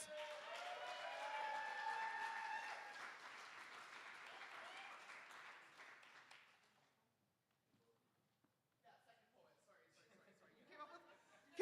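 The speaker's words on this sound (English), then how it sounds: "Round of applause for Ida, please." A poetry slam audience at a verse festival applauds in a warm, dense wash of clapping for about six seconds, then fades into near silence before scattered murmurs and chatter return.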